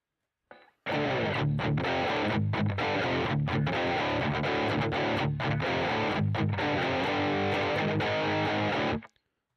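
An electric guitar through a distortion amp simulator plays loud, sustained chords and riffs for several seconds, with a thick, gritty, saturated tone.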